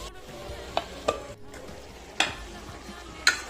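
Small potato pieces are stirred into a frying spice masala for a poa fish bhuna, a soft steady sizzle punctuated by four sharp spatula knocks against the pan.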